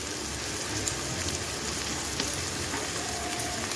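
Tomato and fish in a frying pan give off a loud, close, continuous crackling sizzle like heavy rain, unbroken and with no talking.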